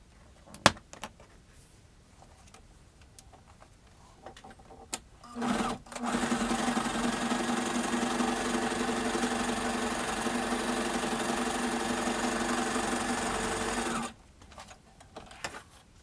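A sewing machine stitches fabric pockets for a Thor costume build, running in one steady, loud, continuous whir for about eight seconds. A few small clicks and handling taps come before it and after it.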